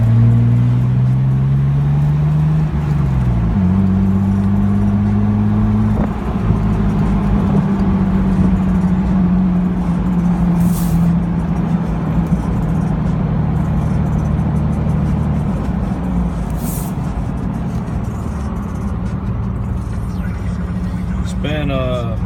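A 2002 Jeep TJ Wrangler with the 4.0L engine and a Magna-pack exhaust runs with a steady, deep idle and low rumble, close by and continuous, with a slight pitch shift early on.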